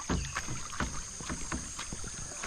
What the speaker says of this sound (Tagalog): Ganito ng ating patubig, malakas pa rin.